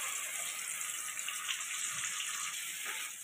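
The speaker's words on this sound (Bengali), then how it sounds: "আগে থেকেই পেস্ট করা মশলা, সেটা আমি এখন তেলের মধ্যে ছেড়ে দিলাম।" Steady hissing sizzle of ground spice paste with cashews dropped into hot oil in a pan, constant and fairly close with no pauses.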